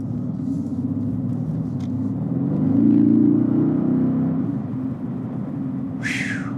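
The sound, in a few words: 2018 Mercedes AMG GT R car driving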